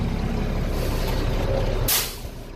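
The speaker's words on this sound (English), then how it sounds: "I'm going to push the brake pedal one time and it should not be less than 100 psi." Truck air brakes during a Class A CDL air brake test with the brake pedal pressed once: an engine idles low and steady, then a sharp, loud hiss of released air bursts near the end and fades.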